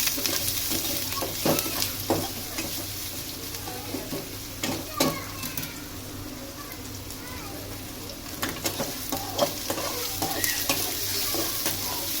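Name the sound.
onion added to hot oil, frying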